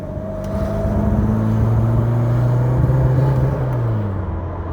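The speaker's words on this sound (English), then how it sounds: "The carb is a little off, and that's probably the sounds that you're hearing" A 1983 Lada 2103 sedan with a slightly off carburetor drives with its engine running, a steady close rumbling drone whose pitch rises gradually as it pulls along, then eases.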